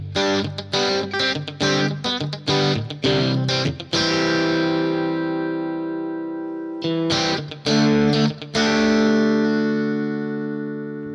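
Clean electric guitar with reduced reverb, Vox-style clean tone, plays a quick run of picked notes, pauses on a long ringing chord, then resumes with a few more strums before sustaining.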